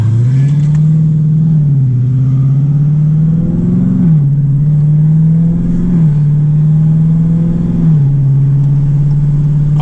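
Cammed Dodge Challenger Scat Pack engine rumbles loud and close from inside while driving, a steady lopey drone rising and falling with a few rev swells as the car pulls along.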